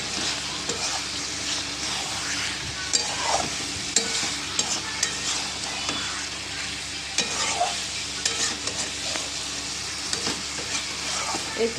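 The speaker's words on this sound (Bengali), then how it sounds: "মশলাটা কষা হয়ে এসেছে, আমি এবার এতে দিয়ে দেবো ভেজে রাখা সবজিগুলো" Vegetables hit spiced masala in a hot pan and sizzle steadily as a spoon stirs and scrapes in uneven strokes, close and loud throughout.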